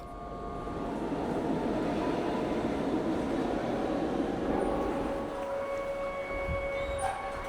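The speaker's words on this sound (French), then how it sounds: "Dernier RER." Last RER suburban train running through a Paris station at night, a steady, loud rumble of rolling wheels with faint high squealing tones, continuous and alone without voices.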